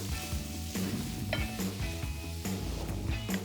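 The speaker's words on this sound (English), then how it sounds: "Saute this for a couple of minutes." Celery, red bell pepper, jalapeño and onion sauté in a hot pan, giving a steady close sizzle with occasional stirring scrapes and clicks of a utensil.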